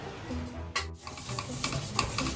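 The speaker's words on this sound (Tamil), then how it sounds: "இதையும் கொஞ்சம் ஃப்ரை பண்ணிக்கலாம்" Sun-dried tomato vathal frying in a pan, a quiet sizzle with scraping stirs and small clinks as the pieces are moved about, heard close with no voices.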